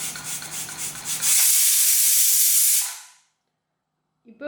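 A pressure cooker releases its whistle while jackfruit-rind fritters cook, a loud steady steam hiss lasting about two seconds before fading out, with quieter kitchen rustling before it.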